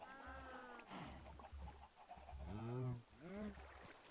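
Several Minecraft chickens cluck and squawk in short rising calls over a low repeating background hum, fairly close and moderately loud.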